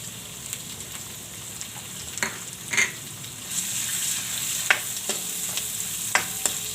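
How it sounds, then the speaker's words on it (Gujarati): Onion sizzles in hot oil that also holds red chillies, a continuous hiss that swells after a few seconds, with scattered crisp pops and light stirring scrapes, close by and unaccompanied. "હવે આપણે આ ડુંગળી નાખી દેશું"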